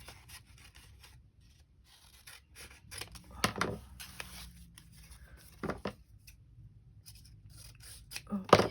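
Scissors snip a small scrap off a paper gift bag, a few short, sharp cuts and rustles spread through quiet stretches, close by with no talking.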